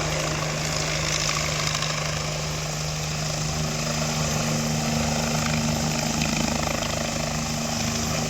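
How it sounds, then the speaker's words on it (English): An ambulance helicopter in Tamil Nadu comes in to land, its rotor and engine giving a steady, loud, continuous drone with a constant low hum throughout, no voices. "the helicopter is most probably expected to land now"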